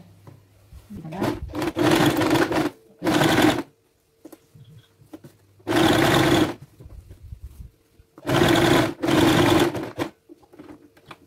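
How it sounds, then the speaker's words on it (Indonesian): Sewing machine stitching a trouser pocket, loud near bursts of motor whirr lasting one to two seconds each, five runs separated by quiet pauses with faint handling clicks, with no voices. "Ya, ini saya jahit sesuai dengan yang udah kita beri tanda ya."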